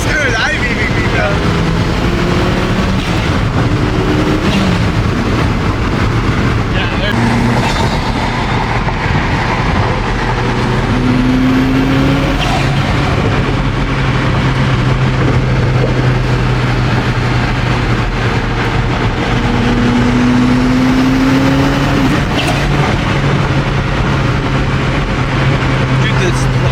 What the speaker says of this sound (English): Look at the turbo sound, bro.